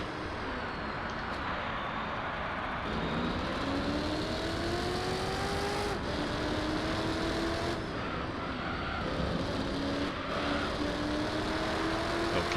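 Gran Turismo 3 race car engine drones steadily throughout, with rising and falling whines as the car accelerates and shifts gears, loud and continuous under a racing game soundtrack.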